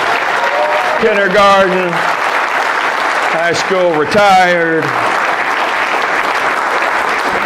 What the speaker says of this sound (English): Clap for all these educators among your midst.